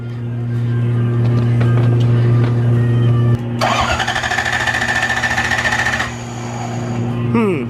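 A Lexus LS 400 being rebuilt for drifting cranks loudly at close range with a rapid, even starter churn for a few seconds and fails to start, over a steady background hum.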